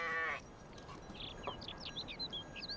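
Sheep or goats in an Alpine pasture give one short, close bleat at the start, followed by scattered bird chirps over a faint outdoor background.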